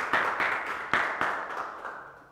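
An audience welcoming a guest at an academy ceremony gives a few scattered, sparse claps, spaced irregularly and fading out, fairly close and faint with no talking.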